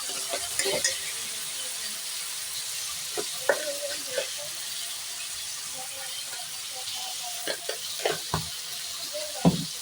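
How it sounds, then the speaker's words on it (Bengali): Spring roll filling fries in a pan with a steady soft sizzle, broken by intermittent clinks and scrapes of stirring, fairly close. "দিয়ে একটু ভালো করে ভেজে নেব"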